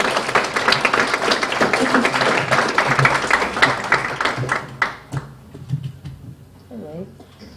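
An audience claps for two honoured performers at a folklife apprenticeship programme event, the applause dense at first and then thinning out into scattered claps and talk.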